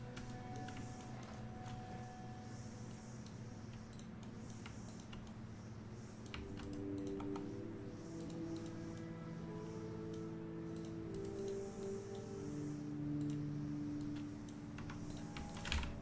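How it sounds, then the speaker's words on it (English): Computer keyboard typing during 3D modeling work in Blender: soft, steady clatter of keys running throughout over a low background hum, faint and somewhat distant, with a sharper click at the very end. "So I'm glad that the keyboard is a good sound."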